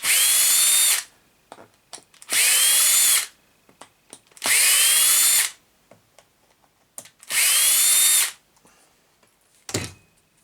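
A power drill backs out the four screws under a KKPIT K1 series bumper mount, running in four steady bursts of about a second each, separated by small clicks and handling noises, close and clear.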